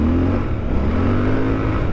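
Triumph Scrambler 1200XE parallel-twin motorcycle engine running steadily while riding a rough road, a continuous close, loud drone with a slight rising rev, no talk.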